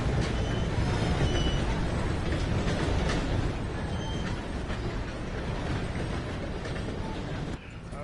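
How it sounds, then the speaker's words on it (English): A train rumbling past in the video game Red Dead Redemption 2, a loud, dense, continuous low roar with rattling clatter, steady and close for several seconds before dropping off near the end, with speech partly over it. "Gotta beat that train, Morgan!"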